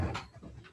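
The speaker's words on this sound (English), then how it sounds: "That's my dog." A dog pants in an indoor room, a quick burst of close, breathy huffs over less than a second.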